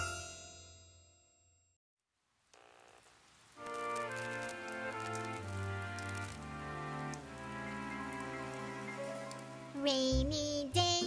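Gentle patter of rain mixed into a jazz version of a children's nursery rhyme, starting soft and brief before giving way to steady instrumental jazz notes with light chimes.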